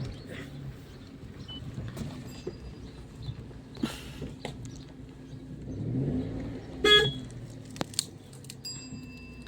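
A car with people getting in and driving off on a village outing, with a door thump, shuffling and a low engine hum building gradually over quiet outdoor background.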